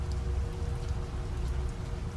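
Heavy rain downpour falling steadily, a dense, even hiss of drops on surfaces with a low rumbling undertone, constant and moderately quiet, no voices.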